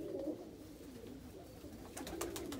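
Soft, low homing pigeon cooing repeats in a calm steady murmur, with a few brief higher chirps near the end.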